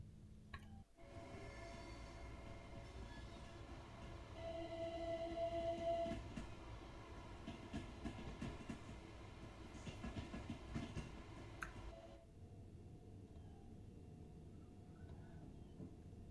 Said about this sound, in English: Plenty of trains going around